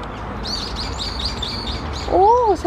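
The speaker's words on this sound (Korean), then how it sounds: "새소리" Small birds chirp in quick repeated bursts outdoors on a summer-like day, and near the end a louder seagull call rings out close by.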